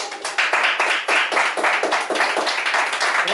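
Church congregation clapping together in steady, dense applause with rhythmic hand claps filling the space, loud and sustained throughout.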